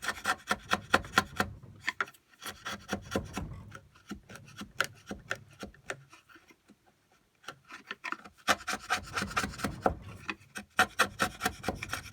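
A 6mm chisel pares the edge of a wooden board near a knot for a spice rack, producing close, rhythmic scraping and rasping strokes in quick bursts, separated by a quieter pause midway.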